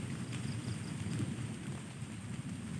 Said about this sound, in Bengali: এখন ঝিরি ঝিরি বৃষ্টি হচ্ছে